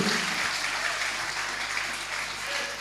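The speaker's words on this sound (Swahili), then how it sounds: "Makofi kwa Yesu." Congregation applause at a church service, a steady, dense wash of clapping that holds evenly loud throughout with no breaks and no talking over it.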